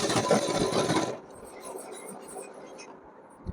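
A sewing machine stitching cotton fabric, a buzzy mechanical run lasting about a second, then dropping to a softer rasping rub.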